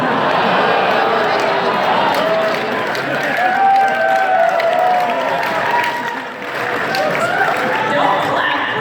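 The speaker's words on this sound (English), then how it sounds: "Don't clap for that." Crowd at an anime convention panel clapping and cheering, a dense continuous wash of applause with overlapping voices and chatter running through it.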